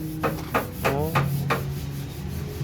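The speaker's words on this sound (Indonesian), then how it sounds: "udah diamplas biar rata mas" A wooden guitar part is sanded smooth by hand in a small home guitar workshop, with a steady series of rhythmic scraping strokes, close and moderately loud, over a background hum.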